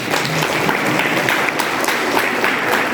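A crowd applauds at a diocesan ceremony in Daltonganj marking the arrival of a new bishop, a dense, loud burst of clapping for several seconds with some faint tonal sound underneath.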